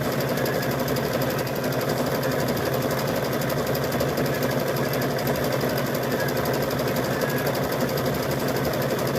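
An embroidery machine stitches a design onto a rope project, its rapid needle chatter running as a continuous, loud mechanical rhythm from start to finish with no talking.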